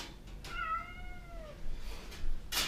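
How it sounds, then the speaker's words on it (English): A large cat gives a drawn-out meow near the microphone in a quiet room, a single rising and falling call with soft background noise and no speech. "That's a big cat."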